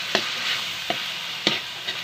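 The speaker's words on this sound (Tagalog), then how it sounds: "Haluin muna natin." Rabbit afritada with tomato paste being stirred in a pan over steady frying hiss, with three or four distinct scraping strokes of the utensil spaced about half a second apart.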